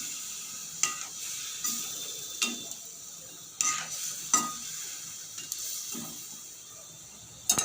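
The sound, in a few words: water added to frying chicken curry masala, stirring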